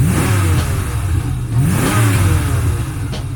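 SN95 Mustang engine idling on newly fitted fuel injectors, a loud close rumble that rises and dips in a few small revs before settling, with no voices.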